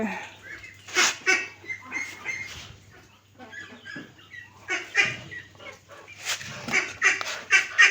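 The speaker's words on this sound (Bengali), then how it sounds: "আর এগুলো আমার হাঁস, রাজহাঁস আছে, চীনা হাঁস আছে, পাতি হাঁস বড় এবং ছোট বাচ্চা আছে।" Domestic ducks and geese kept at a pond-side home, including Chinese geese, call and honk in uneven bursts nearby, with quiet gaps between the noisy clusters.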